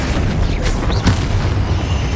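The Confringo fire spell explodes in Hogwarts Legacy with a loud, booming burst. Whooshing magical effects and rumbling combat noise run through the scene, and no one speaks.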